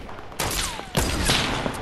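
Gunfire and explosive weapon blasts in the Fortnite Battle Royale game, a dense burst of rapid shots layered over a whooshing projectile sound, continuous and loud throughout.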